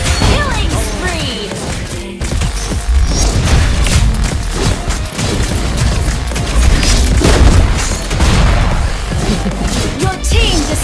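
Mobile Legends: Bang Bang turret being destroyed, heavy booms and crashing impacts layered over dense, continuous battle effects, loud and busy throughout with no pause.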